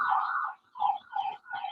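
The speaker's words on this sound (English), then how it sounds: "I'm letting the siren go by." An emergency vehicle siren wails past outdoors during an indoor board meeting, rising and falling in repeated cycles at moderate distance with no talk over it.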